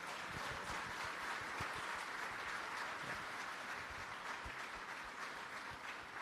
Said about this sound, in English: I would love to have a huge round of applause for my team here.